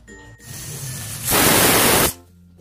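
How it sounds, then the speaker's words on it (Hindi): A pressure cooker whistles on a gas stove while beetroot cooks with a glass of water inside, a loud sustained hiss bursting in after a quieter stretch, holding steady for under a second, then cutting off. "कुकर को बंद करके हम 1 सीटी लगा देंगे।"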